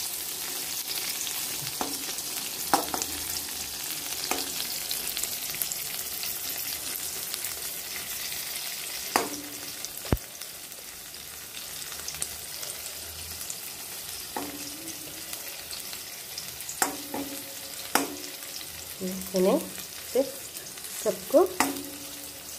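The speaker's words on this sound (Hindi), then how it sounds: "हल्की हल्की फ्लेम से इसे अच्छी तरह से फ्राई करना है" Paneer slices fry gently in oil over a low flame for paneer paturi, a soft steady sizzle with scattered clinks and scrapes of a spatula turning the pieces, while a brief spoken word slips in.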